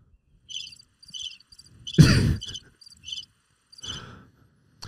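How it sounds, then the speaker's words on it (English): A cricket chirping sound effect plays in short, evenly spaced bursts of high trills, with a sudden loud breathy burst and a few softer noises breaking in partway through. "Where's the cricket sound?"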